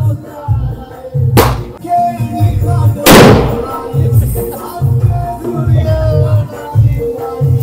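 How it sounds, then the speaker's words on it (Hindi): Two sharp, loud explosive bangs from a big Diwali firecracker go off close by, the second bigger than the first, over a thumping music beat with voices in the background. "यहाँ पे तैयार हो रहा है बड़ा पटाखा।"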